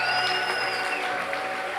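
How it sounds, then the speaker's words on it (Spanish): Congregation applause at a church gathering welcoming two women pastors, steady clapping heard over sustained music tones that ring through the short burst. "Un abrazo y un aplauso."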